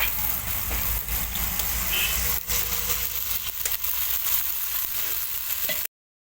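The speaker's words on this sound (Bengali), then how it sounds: "এবার অল্প করে গ্রেভির জন্য জল দিয়ে দেবো।" Water is poured into oil-released fried masala for a tengra fish curry, and the pan gives a loud, continuous close sizzle and crackle that runs unbroken before cutting off abruptly.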